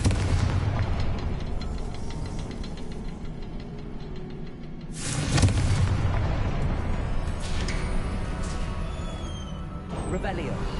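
Confringo spell explosion in the video game Hogwarts Legacy: a dense, rumbling blast with a sharp burst around the middle, then crackling debris and magical whooshes, loud and continuous.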